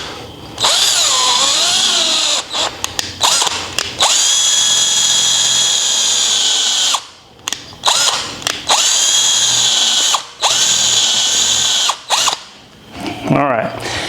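Power drill boring through a broken bolt, a loud high whine in several long bursts with brief pauses and ratcheting stops between them.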